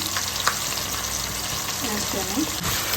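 Kasuri methi and ginger frying in a pan for vegetable pulao masala, a steady close sizzle with a few stirring clinks, and a voice speaking briefly over it.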